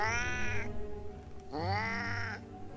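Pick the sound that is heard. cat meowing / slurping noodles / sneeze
cat meowing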